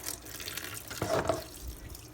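Cold tap water runs steadily into a sink for rinsing cloth napkins during household cleaning, a continuous watery splash with a brief louder gush midway.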